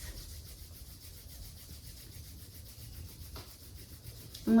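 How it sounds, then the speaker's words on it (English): Hands rub palm against palm during seated chair yoga, making a soft, steady close swishing friction that runs continuously and ends with a brief louder touch. "So let's go ahead and start rubbing the palms, bringing some heat into the hands."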